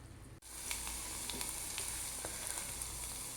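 Ghee heating in a pan on the stove before tempering, giving a steady, close sizzling hiss with small sharp crackles scattered throughout, following a brief quiet dip at the start.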